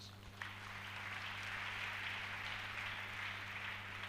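A church congregation applauds during a sermon, producing a faint, distant wash of clapping that holds steady for several seconds with no voices on top.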